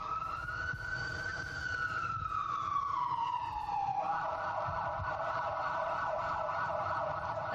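Ambulance siren sounding continuously while the ambulance runs lights and sirens to a medical emergency in the city, a loud wailing tone that sweeps down and then shifts to a steady pattern over road rumble, with no talk.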